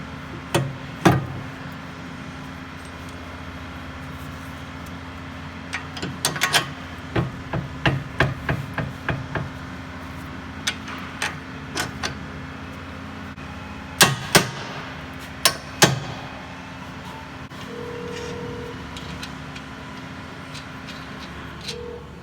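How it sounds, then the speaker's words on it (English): A 1/2 inch impact wrench rattles in short hammering bursts while working on a car's front struts, the bursts loud and close, separated by pauses over a steady low hum. "You guys don't see me use a 1/2 inch impact very often"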